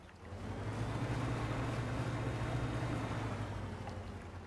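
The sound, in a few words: boat engine hum in DREDGE video game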